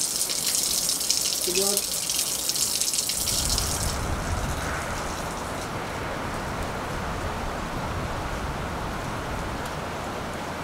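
Water gushing from a tap at a village spring in Oituz commune, a strong continuous rush that changes tone partway as the flow shifts, with a person talking over it at the start.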